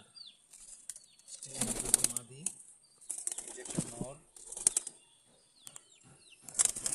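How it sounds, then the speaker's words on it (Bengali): Several short bursts of doves' wings flapping, close by and uneven, with quiet talking in between. "এখানেও কিছু ঘুঘু আছে"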